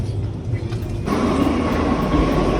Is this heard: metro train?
yes